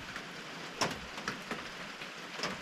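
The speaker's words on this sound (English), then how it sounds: "It's like the worst type of rain." Steady winter rain on Roan Mountain along the Appalachian Trail hisses across the whole clip with a few sharper drop spatters standing out, fairly close and moderately loud.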